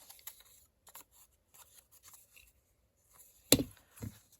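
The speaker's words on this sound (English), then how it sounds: "You could just snip them" Scissors make sparse, quiet snips and rustles while scored paper is trimmed for a small cube treat box, ending in two sharper cuts.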